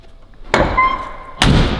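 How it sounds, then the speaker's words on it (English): Two solid classic car door thuds, the second about a second after the first, each with a short ringing tail, close and fairly loud with no talking. "Doors close well."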